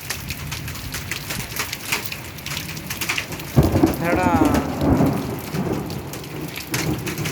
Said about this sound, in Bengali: সন্ধ্যার টাইমে বৃষ্টি আর বৃষ্টির সঙ্গে পাথর আর জলটা জোরে আসছে